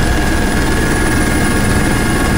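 A helicopter flying over jungle near a base camp, a loud, steady rotor and engine drone that fills the whole clip without letting up.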